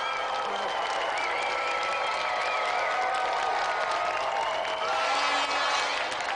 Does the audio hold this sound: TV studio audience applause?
yes